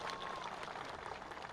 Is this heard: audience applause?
yes